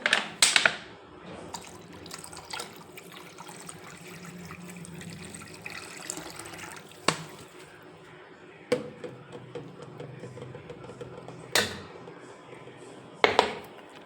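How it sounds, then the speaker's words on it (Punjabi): Water trickles and splashes into a container of lemonade, a soft steady pour punctuated by a few sharp clinks and knocks. "ਬਾਕੀ ਆਪਾਂ ਇਹ ਹੋਰ ਪਾਣੀ ਪਾ ਲਾਂਗੇ"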